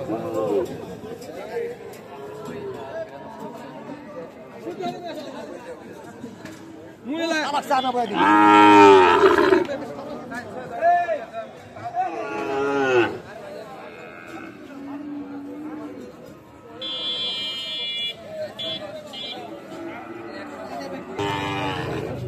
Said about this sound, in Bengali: শাহিওয়াল জাতের ষাঁড় বাছুর।